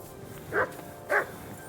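The dog Mutt in the video game Kingdom Come Deliverance 2 gives two short, moderately close barks about half a second apart over quiet ambience.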